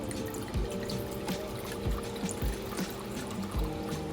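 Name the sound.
wine poured into a measuring jug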